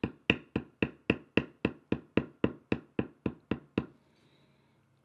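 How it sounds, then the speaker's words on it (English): A metal matting tool is struck about fourteen times in a steady, even rhythm, pressing down the background of tooled leather. The taps are crisp and close, then stop, leaving near silence. "I will use a matting tool in that area to push down that background"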